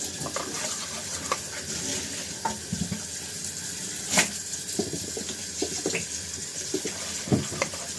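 Water runs steadily from a tap while dishes are washed, clinking and clattering in a sink, with scattered knocks and splashes throughout.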